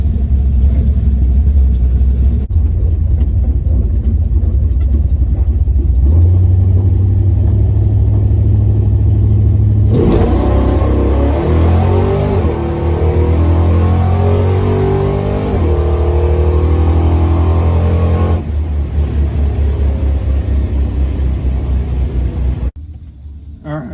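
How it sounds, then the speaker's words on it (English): A drag racing car engine idles loudly at Milan drag strip, then revs up in rising surges before settling back to a steady, rumbling idle; close and continuous. "Let the engine warm up for a second and get ready to make a run."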